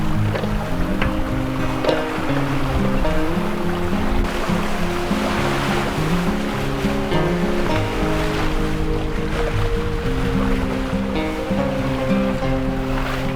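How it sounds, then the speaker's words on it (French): Water rushes steadily along the hull of the sailboat Lady L as it sails off Porquerolles, a continuous loud wash with a faint tonal hum underneath and no voices. "Seul le bruit de l'eau accompagnera son sillage jusqu'à la fin de cette étape."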